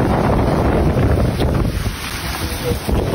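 Strong typhoon winds and heavy rain from Typhoon Uwan in Baras, Catanduanes, at dawn: a loud, continuous roaring wash of wind buffeting the microphone, with dense rain noise throughout.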